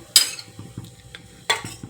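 A metal spoon clinks against a cooking pot twice in a home kitchen, two bright close knocks about a second apart with faint scraping between.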